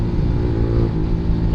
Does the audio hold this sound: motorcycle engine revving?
yes